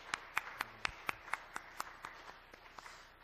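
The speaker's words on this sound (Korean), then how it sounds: "우리 하나님께 영광의 박수 하시겠습니다." Church congregation clapping in unison, a faint steady rhythm of about a dozen sharp claps that slowly fade out.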